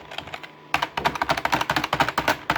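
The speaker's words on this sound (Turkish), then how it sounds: "Normalde klavye sesi bu." Brisk keyboard typing, a few soft taps, then a dense run of sharp, loud clacking keystrokes in fast succession, close up.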